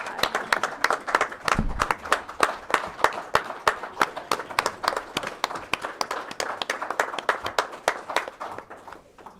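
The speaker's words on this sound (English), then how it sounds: "Let's give them another round of applause." A round of applause fills a county board of supervisors meeting, steady sharp clapping from a modest crowd that continues for several seconds and thins toward the end.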